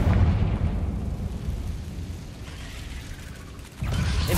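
A Confringo blasting spell in a Hogwarts video game lands as a dense, rumbling burst that rolls on for several seconds, dips, then swells again in a fresh booming blast near the end.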